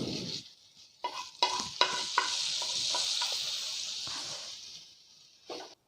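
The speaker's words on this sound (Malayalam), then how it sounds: "കടുക് താളിച്ച് നമ്മൾ റെഡിയാക്കി വെച്ചിരിക്കുന്ന ഇഞ്ചിപ്പുളിയിലേക്ക് ഒഴിച്ചു കൊടുക്കാം" Hot mustard seed and curry leaf tempering is poured into ginger-tamarind puli inchi, with a few clinks followed by a loud, sustained hissing sizzle that gradually dies down, then a final clink.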